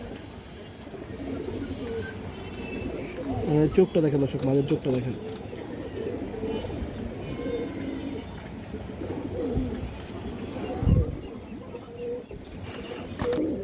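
Pigeons for sale coo softly and repeatedly beneath a man's near, continuous talk, with a brief louder thump partway through.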